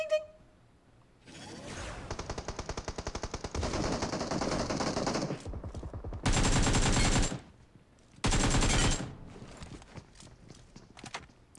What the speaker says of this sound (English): there's a mech fight going on right outside